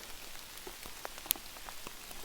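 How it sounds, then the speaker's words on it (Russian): Heavy autumn rain falls during boat fishing, a steady faint patter with scattered distinct drops ticking sharply on a nearby surface, one louder drop standing out near the middle. "Сейчас пошел большой дождь."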